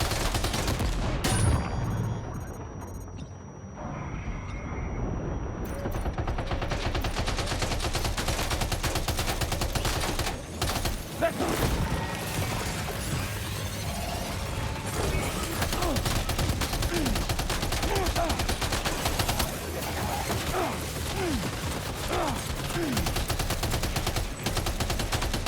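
Sustained machine gun fire against ghost mechs in Death Stranding 2, dense rapid bursts running nearly unbroken and loud for the whole stretch, layered with other gunfire and game effects.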